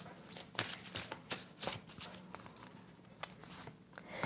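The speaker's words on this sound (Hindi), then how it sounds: "एंड मार्च के लिए भी मैं एक कार्ड निकाल लेती हूँ।" Oracle cards being shuffled and drawn by hand, with a run of quick, crisp riffling flutters and soft slaps close up and no talking.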